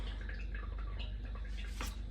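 Water still running into the storage tank of a home water filter system after the supply is shut off, a steady faint trickling and dripping with a few brief louder drips.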